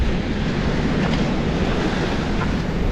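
A steady, rushing roar of strong waves with heavy wind buffeting the microphone, continuous and loud throughout.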